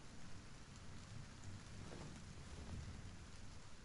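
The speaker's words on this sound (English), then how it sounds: "It's raining outside." Rain falls outside in Silent Hill 2 Remake as a faint, even patter and hiss that holds steady throughout, with no voices.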